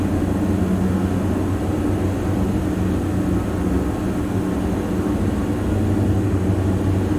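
Steady twin-engine propeller drone of a Diamond DA-42 on approach in a flight simulator, a constant low hum with broadband cabin noise and little change in level throughout.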